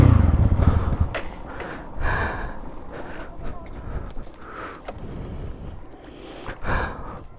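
A man pants heavily after pushing a stalled motorcycle up a street, gasping and sighing in loud bursts at close range, with speech-like breaths between gasps.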